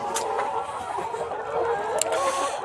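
Laying hens cluck and murmur steadily in a noisy poultry farm at night, with a couple of sharp higher calls breaking through the continuous background din.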